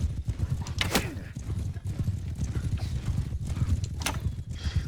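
Hooves of a ridden horse in a video game clip-clop steadily and close, with an occasional whinny, over a busy game soundscape.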